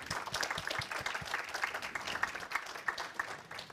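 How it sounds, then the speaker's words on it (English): Audience applause after a tech talk presentation on stream processing, a steady patter of many hands clapping at moderate loudness for a few seconds, with a faint voice briefly audible beneath. "a big applause for Thomas for this presentation."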